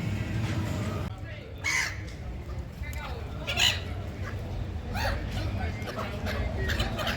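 Seagulls squabble over chips outdoors in the Netherlands, with loud harsh calls and squawks bursting out repeatedly over steady background noise and murmuring voices.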